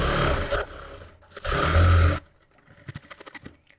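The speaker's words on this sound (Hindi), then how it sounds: "तो इस तरीके से खोलकर एक सिलाई और मारेंगे" A sewing machine stitches a katori blouse in two loud, steady bursts of a few seconds each, separated by a short pause, followed by quieter scattered clicks and handling sounds.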